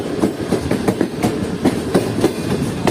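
The Karachi Express passenger train runs along its tracks, heard from aboard with a steady, close clickety-clack of wheels over rail joints beating in an even rhythm over a constant rumble.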